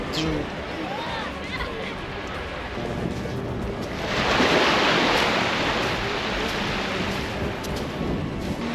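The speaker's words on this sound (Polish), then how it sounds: "a oto morze" Sea waves roll onto a wide Dutch beach at Zandvoort on a sunny day, a continuous wash of surf with a louder breaking surge midway, mixed with gusty wind buffeting the microphone.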